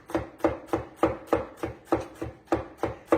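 A knife chops through an onion on a cutting board in about a dozen crisp, evenly spaced strokes, close and clear with no talking.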